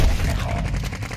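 Rapid bursts of automatic gunfire from a first-person shooter video game ring out loud and close, a dense rattle of shots that overlap without pause.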